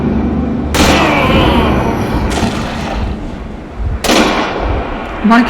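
Gunshots fired in the Metro Exodus video game, several sharp broadband blasts at about 0.7, 2.3 and 4.1 seconds, each with a decaying tail over a dense, noisy in-game background.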